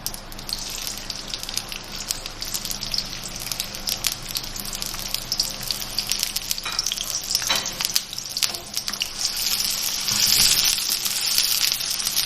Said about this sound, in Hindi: 1/4 कप तेल लिया है मैंने ये, और अब मैं इसमें प्याज फ्राई कर रही हूँ।